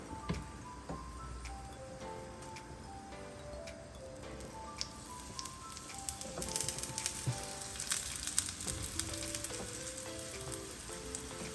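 An aloo cheese paratha fries on a gas stove over medium heat, giving a steady, close sizzle with soft crackling pops that grows a little busier partway through, with no one talking.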